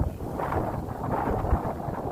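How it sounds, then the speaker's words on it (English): Steady low rumbling wind buffets the microphone throughout, a constant muffled roar with no voices. "Hoping the wind's not too windy for the video."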